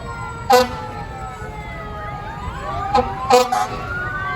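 Sirens on volunteer fire department trucks in a small-town festival parade sound outdoors with rising and falling wails and short loud horn blasts over steady crowd and engine rumble.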